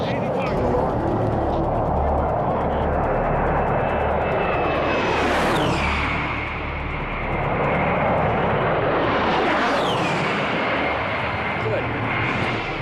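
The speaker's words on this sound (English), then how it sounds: "Warthogs were a very interesting kind of plane because it's kind of eerie, because they get very low and they're just got this whine to it." A low-flying A-10 Warthog airplane roars past close by with a rising and falling whine, sweeping in loud twice amid constant engine noise while people talk over it.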